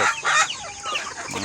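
Chickens cluck on a rural homestead at feeding time in the late afternoon, several birds overlapping in busy, close clucks with a brief crow-like call among them.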